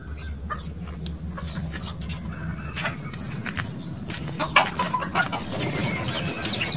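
Chickens clucking around nesting hens laying eggs, heard as scattered, overlapping soft clucks and short calls, nearby and moderate in loudness against low background hum.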